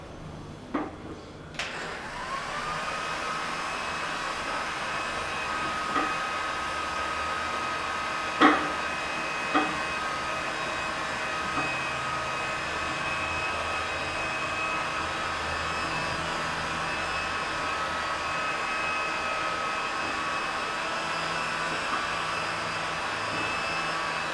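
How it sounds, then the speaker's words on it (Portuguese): A steady electric heat gun blowing hot air to soften plastic hums and whooshes continuously close by, with a few faint clicks and taps early on. "O soprador serigráfico nada mais é do que como se fosse um soprador de secador de cabelo"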